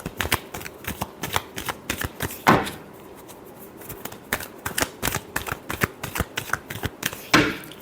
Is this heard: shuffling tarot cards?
yes